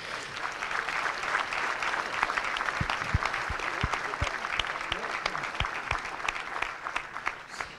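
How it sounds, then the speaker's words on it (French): Sustained applause from a conference audience honouring the speakers, steady clapping filling the room from start to finish without a break. "nos intervenants qu'on peut encore une fois applaudir pour leur déplacement"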